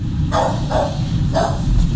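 Dog barking, three loud sharp barks spaced roughly evenly over a constant rumbling background, close and clear.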